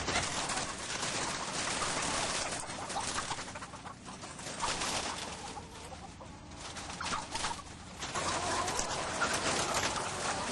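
Crowded caged hens at a large-scale egg farm, a constant dense din of clucking and squawking from many birds close and far, steady throughout with no talk.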